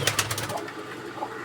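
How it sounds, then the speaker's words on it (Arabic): A pigeon's wings flap in a quick burst of beats close by as it takes off near a loft, then the sound fades into faint background noise. "هذا طير هنا يطير يمنا"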